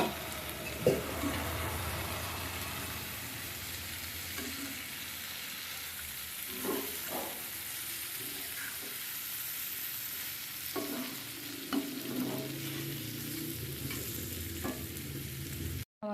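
Small khalsa fish frying with onions in a pan, a soft continuous sizzle under scattered stirring scrapes and taps, close but fairly quiet, with no one talking.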